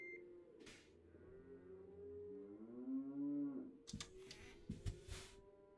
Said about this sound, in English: Cows are having a fit.